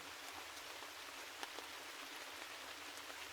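Steady rain falls in a continuous soft hiss with scattered droplet ticks, heard alone at an even, moderate level without any voices.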